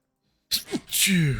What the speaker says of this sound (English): Really sneezing today.